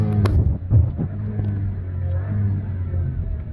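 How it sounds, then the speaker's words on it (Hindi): Inside the cabin of a Volkswagen Taigun, the engine rumbles and revs up toward redline, a loud, close, rising drone that holds steady. "we are at 2000 rpm and I'm going to redline the car"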